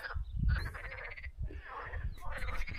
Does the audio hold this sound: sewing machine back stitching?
no